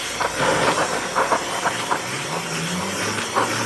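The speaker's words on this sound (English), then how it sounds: "Warming it with the torch does two good things." Steady broadband hiss of a torch flame playing over an aluminum lower control arm with bushings and a ball joint attached, continuous and fairly close, with faint ticks and a low hum beneath, no talking.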